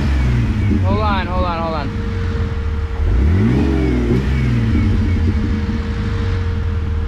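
A Jeep engine revs at high RPM, a close rumbling roar that climbs in pitch and falls back midway, with a brief spoken remark over it.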